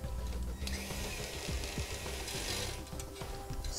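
Screwdriver or 5/16 nut driver loosening hose clamps during an Air Lift 1000 air helper spring install, heard as a steady, fine mechanical ratcheting whir with small clicks over a constant background hum.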